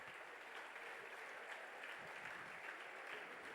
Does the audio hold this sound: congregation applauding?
yes